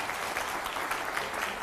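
A studio audience at a televised Hindi debate show breaks into hearty applause, a continuous, dense clapping of many hands at steady moderate loudness throughout the short moment.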